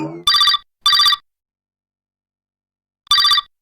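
A telephone rings in short electronic bursts, two quick rings followed by a pause and another ring, loud and close with silence between.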